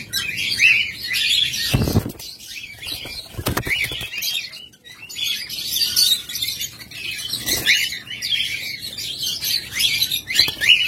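Lovebirds, a master-grade pair, chirp busily up close with dense, overlapping tweets, interrupted by a few sharp bursts of wing flapping.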